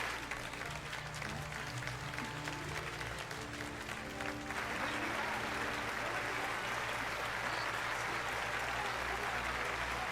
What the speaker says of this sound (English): Why y'all clapping?